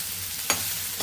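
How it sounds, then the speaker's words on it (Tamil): Chicken frying in a pan after soy sauce has gone in, a steady low sizzle with a single sharp stir or scrape midway and another faint one at the end. "இது நல்லா கிண்டுங்க."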